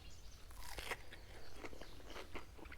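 Someone bites into crispy fried white fish dressed with Frank's hot sauce, giving a few quiet, close crunches and chewing sounds in an outdoor shore-fishing setting, with no talking.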